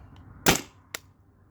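A Tippmann TPX paintball pistol running on a 12 gram CO2 cartridge fires one sharp, loud pop followed by a fainter short click or puff about half a second later, with quiet room hiss around it.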